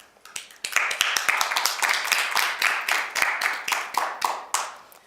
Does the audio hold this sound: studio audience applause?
yes